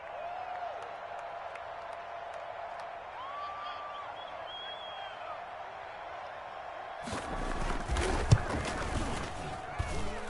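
Stadium crowd noise in a Madden NFL football game, a low murmur swelling suddenly into a loud roar of cheering and applause partway through, sustained to the end, with a commentator talking over it.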